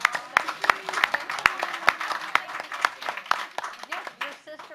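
Scattered applause from an audience at a school district board meeting, honoring staff family members: sharp, uneven claps ring out over a few seconds with faint voices in the room.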